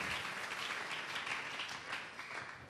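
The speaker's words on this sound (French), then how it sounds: "Acclame très fort pour les autres." A church congregation applauding, dense continuous clapping that fills the room evenly and tapers slightly toward the end.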